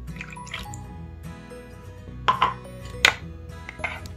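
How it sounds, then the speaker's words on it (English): Milk pours with soft drips and splashes into a bowl holding three eggs, a few brief louder splashes standing out over quiet kitchen background. "Now I'm going to pour in 3/4 a cup of milk."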